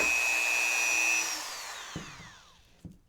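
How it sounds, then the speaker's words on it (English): Dremel rotary tool cuts through a 3D printed jaw with a close, high whine that winds down and fades, followed by two soft knocks. "I've got my Dremel here, and I just saw some of this off"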